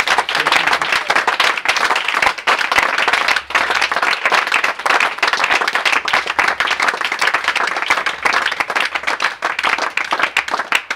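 A church audience gives dense, loud, continuous applause for the preacher, sustained without a break from start to finish.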